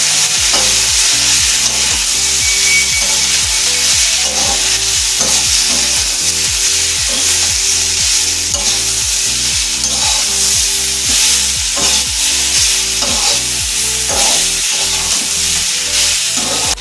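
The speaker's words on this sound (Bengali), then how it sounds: "এবারে এক চামচ সর্ষা গুঁড়ো মশলা ভালো করে একটু নাড়াচাড়া করবো" Curry of bitter gourd and potato with chilli and mustard powder spices being stirred in a pan, a steady bright sizzle under repeated clinking, scraping spoon strokes in a quick rhythm, close and loud throughout with no talking.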